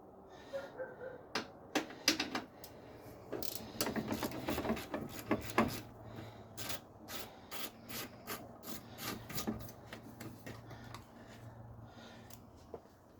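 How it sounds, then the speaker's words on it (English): Wrench work removing a 10mm bolt beneath the coolant reservoir of a 2007 Ford Focus, with repeated close ratcheting clicks, scraping and metal rubbing in irregular bursts, no talking. "We got a 10mm bolt right here we're going to remove."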